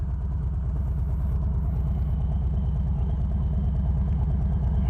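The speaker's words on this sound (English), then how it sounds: "When the bike's idling, this is when" A 2020 Harley-Davidson Low Rider S sits idling nearby, its V-twin engine giving a steady, loud, low rumbling pulse with an even loping rhythm and no talk.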